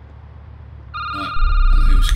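A telephone rings in the security booth video game, starting partway through as a bright electronic trill over low background noise. A heavier rumble joins it toward the end.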